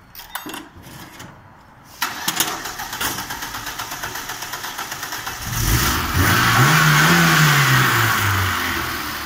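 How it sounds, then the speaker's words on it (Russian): A VAZ car engine, just fitted with a new timing belt, cranks and catches, then settles into a steady idle with a slight rise and fall in revs, close and loud, with no talk. "Заводим машину."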